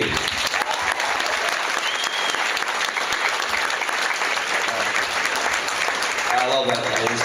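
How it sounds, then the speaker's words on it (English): An audience breaks into loud, steady applause at a motivational event, a crowd clapping continuously with a voice starting to speak near the end. "Let's give a round of applause for Jake."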